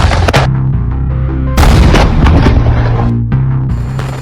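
Loud blasts and bursts of gunfire from military strikes on Hamas positions in Gaza, with heavy booming impacts and sharp cracks rolling continuously over a dense, music-like background.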